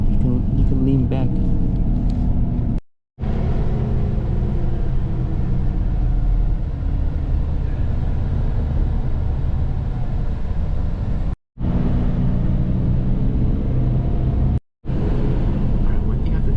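A bus rolls through traffic on a route from Osaka toward Nagasaki, its steady loud engine rumble and road noise filling the cabin nearly without pause, broken only by a few brief silent gaps.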